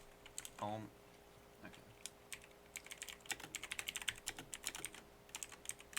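Rapid typing on a computer keyboard, a dense run of sharp key clicks growing busier toward the end, with a brief spoken word near the start and a faint background hum.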